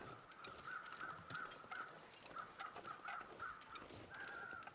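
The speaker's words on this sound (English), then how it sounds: "There go some birds." Birds calling in the wilderness survival game The Long Dark, a run of repeated caw-like cries at an even rhythm over a quiet wind bed, moderately distant and with no talking.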